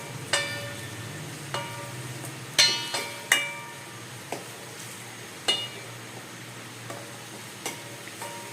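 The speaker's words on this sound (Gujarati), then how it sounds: "જે કાંદા સુધાર્યા છે ને એ નાખી દઈએ. અને એને ચડવા દઈએ." Chopped onions sizzle steadily in a pan while noodles are being made at home, with a soft continuous frying hiss under sharp intermittent clinks and taps of a spoon against the pan.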